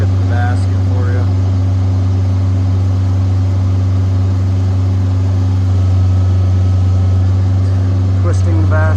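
A Deutz diesel engine on a 1999 JLG 600S boom lift idles with a loud, steady low drone, while someone talks over it.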